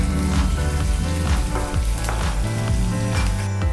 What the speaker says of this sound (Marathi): आपण आता कांदा टाकून घेऊ। तो पण छान भाजून घेऊ।